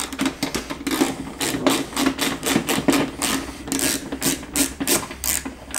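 Screws are being worked out of a broken headlight bracket on an Opel Meriva A, giving close, rhythmic bursts of ratcheting clicks that repeat steadily with short pauses, with no voices.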